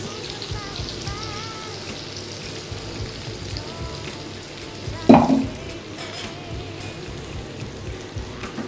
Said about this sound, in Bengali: এবার আমি এর মধ্যে এই যে মশলাটা পেস্ট করে রেখেছি এটা দিয়ে দেবো